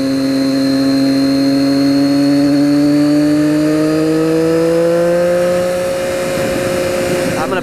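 A 2013 Triumph Daytona 675R triple pulls hard in fourth gear, its loud close engine note climbing steadily in pitch for several seconds, wind roaring over it.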